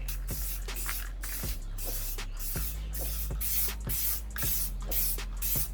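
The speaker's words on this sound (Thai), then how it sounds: "เราจะพ่นสเปรย์เคลือบเอาหนา ๆครับแต่ว่าไม่ต้องเยิมนะครับ" Continuous hiss of an aerosol can spraying a thick coating onto a surf skateboard deck from about a foot away, with faint rhythmic clicks or taps recurring about once a second in the background.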